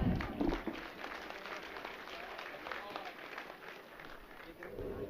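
Audience applause at a Gurjar community awards ceremony in Gwalior, a moderate crowd clapping steadily for several seconds, somewhat distant and soft, with faint voices around it.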